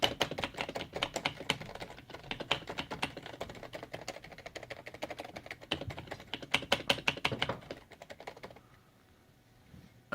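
Rapid, dense typing on a Topre Filco Silent keyboard, with keys mashed hard in a frantic flurry of soft, muted clacks and occasional heavier spacebar hits, ending abruptly in near silence.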